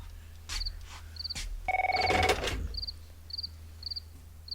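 A telephone rings with a bright electronic trill in one short burst, while crickets chirp steadily in the background.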